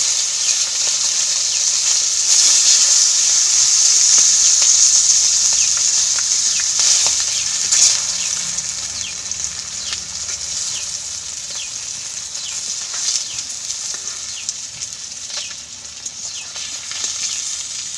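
Fish frying in oil in a home kitchen, a steady hiss and sizzle held close and loud for the whole stretch, easing off somewhat in the second half, with scattered faint crackles and no voices.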